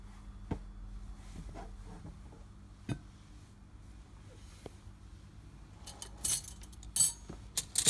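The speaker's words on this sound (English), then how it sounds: "place the cutleries inside the cutlery pocket." Metal cutlery is slipped into a napkin cutlery pocket on a coffee and tea table setup, with scattered light clinks and taps, faint and spaced apart, then a brighter cluster of chinks toward the end.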